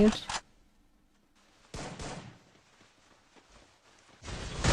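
Gunshots in the mobile shooting game Free Fire, a short burst of shots at the start, another around two seconds, and a louder burst at the end, with quiet stretches between.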